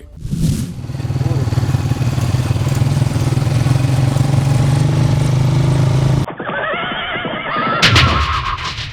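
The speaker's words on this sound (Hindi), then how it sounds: "आने वाला यह मोटरसाइकिल सवार बेचारा इन खेतों के दरमियान चला आ रहा था" Motorcycle ridden along a path between farm fields gives off a steady, loud engine drone for about six seconds, then cuts off abruptly into other brief sounds.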